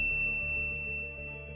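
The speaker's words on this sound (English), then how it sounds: "ring the bell to get notified about our latest videos." A bright notification bell dings once near the start, a single clean chime ringing out over a steady low musical bed.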